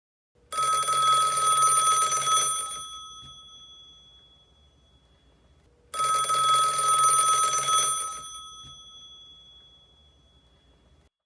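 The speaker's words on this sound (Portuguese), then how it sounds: "Depois, o telefone dos cubos tocava." An old-style bell telephone in a cell block rings with two long, loud metallic rings several seconds apart, each cut off and ringing down, with no talking.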